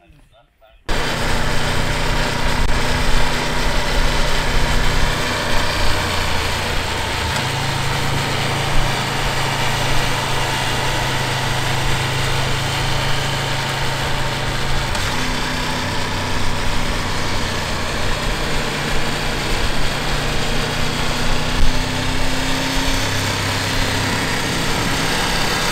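A Triumph motorcycle engine runs at a steady, loud idle-like drone close by, continuous for the whole stretch with slight shifts in pitch, while someone speaks over it.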